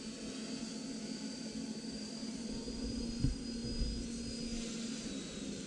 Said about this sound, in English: the drone is slowly coming back to the ground